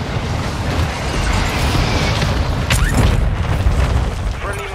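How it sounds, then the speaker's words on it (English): Mortar strike explosions in a Call of Duty match, heavy continuous rumbling booms layered with mechanical game noise, loud and sustained throughout, with players talking over the din. "Friendly mortar strike inbound."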